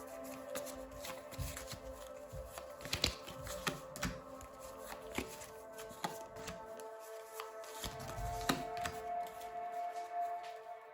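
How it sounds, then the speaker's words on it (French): A deck of guidance cards being shuffled up close, with repeated riffling flutters and soft slaps coming in quick bursts. There are brief pauses between the bursts. "Je vais prendre 3 cartes avec ce jeu ici"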